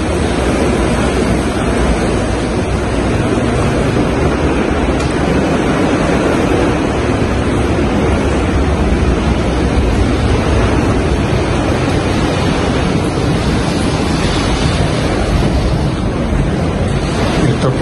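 Typhoon Kristine's strong wind roars and buffets the microphone over a dense, constant wash of crashing waves. The noise is loud and unbroken throughout.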